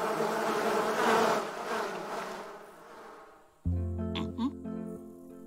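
Bees buzzing in a thick droning swarm for a few seconds in a French cartoon, cut off abruptly by a tonal musical sting with a voice over it.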